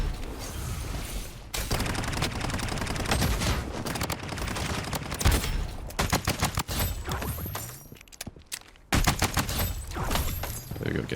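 Rapid SMG hipfire in Blood Strike, dense bursts of loud close shots running almost without a break, with short gaps and a few louder cracks between the rattling volleys.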